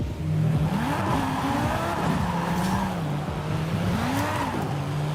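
A BMW M6 in Forza Horizon 5 revs hard, its engine pitch climbing and dropping through gear changes, with a raspy edge and faint tire scrub beneath, continuous and close.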